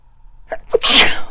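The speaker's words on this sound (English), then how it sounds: "Oh, I got to sneeze." A single loud, close sneeze with a short sharp inhale just before it.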